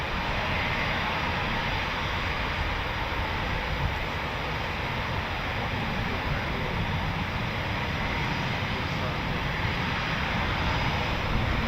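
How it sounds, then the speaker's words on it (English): Broad, steady jet engine roar from a Eurofighter Typhoon FGR4 taxiing out at RAF Coningsby, a continuous whining rush at moderate distance with no breaks. "Another Typhoon just taxiing out now"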